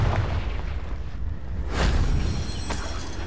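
A Confringo spell explodes in Hogwarts Legacy, a loud fiery boom that swells out of a dense rumbling game soundscape and fades, with a sharper burst near the end.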